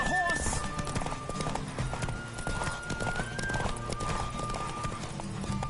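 A horse gallops with rapid clip-clop hooves and whinnies in The Witcher 3, loud and steady, with a voice speaking over the ride.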